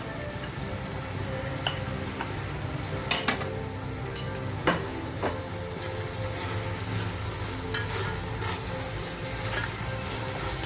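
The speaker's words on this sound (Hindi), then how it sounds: "अब हम इसमें अपना चिकन ऐड करेंगे जो हमने पहले से फ्राई कर लिया था" Pre-fried, spiced chicken stirring and frying in a pan for chicken vegetable spaghetti, a steady soft sizzle with scattered clicks and scrapes of the utensil.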